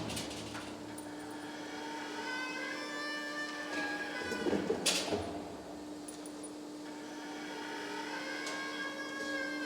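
Purlin roll forming line running in a factory, a steady mechanical hum with a constant drone and metallic ringing overtones, a louder clattering burst near the middle, no talk.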